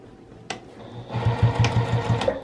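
Sewing machine stitching a fabric knitting needle case, a quick rhythmic mechanical chatter starting after a click, close and clear with no talk.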